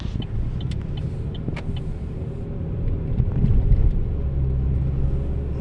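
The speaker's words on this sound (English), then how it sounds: "Remember, it's a highway though, so we have to be aware of the cars" Cars passing along a highway on Longmeadow Street in Longmeadow, Massachusetts, a steady low traffic rumble that swells as a vehicle draws closer near the end, with no voices.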